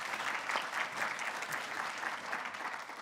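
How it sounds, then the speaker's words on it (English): A quick round of applause from an audience at an arts conversation event, steady, moderately distant clapping from many hands with a slightly fluttering rhythm throughout. "So let's give her a quick round of applause"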